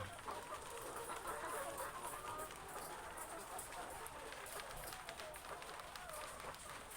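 Many laying hens in a multi-level chicken coop, a steady dense bed of clucking and rustling heard from close by, with faint talk mixed in.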